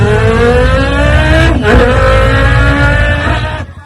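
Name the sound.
man imitating the sound of a vehicle engine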